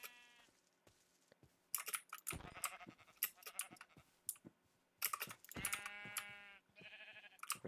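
Sheep in a video game bleat repeatedly in short wavering calls, several overlapping, mixed with brisk computer keyboard typing and clicks close by.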